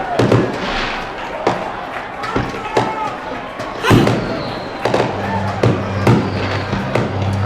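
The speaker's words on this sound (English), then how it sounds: "Oh, fireworks!" Fireworks burst at a high school football game, a series of sharp booming explosions at irregular intervals with crackling tails, loud and close, while crowd noise and voices carry underneath.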